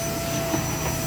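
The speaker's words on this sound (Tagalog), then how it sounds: "ganyan lang ako mag-vacuum sa ibabaw" A vacuum cleaner runs steadily at close range, a continuous whirring drone with a constant hum and no voices over it.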